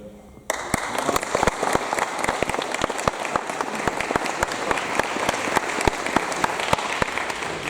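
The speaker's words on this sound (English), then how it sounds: "Guys, give another round of applause for Lamar." A round of applause at a 2021 award ceremony, starting abruptly and holding steady as a dense, fairly close crowd clapping with a few louder individual claps standing out.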